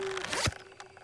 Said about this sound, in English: I just heard a zipper.